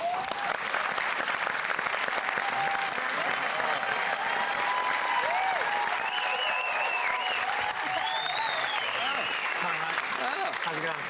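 A studio audience at a Christmas-themed TV music quiz show claps steadily and loudly for eleven seconds, dense applause with a few whoops and a faint voice mixed in.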